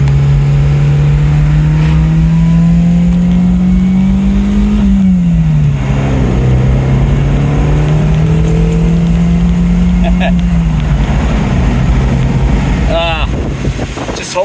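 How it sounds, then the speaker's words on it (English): An MG MGF sports car engine pulls hard up a mountain road, its steady drone climbing in pitch, dipping briefly at a gear change, then rising again, loud and close with wind noise and a voice speaking over it. "I'll take one more blast up the mountain so we can really hear the engine"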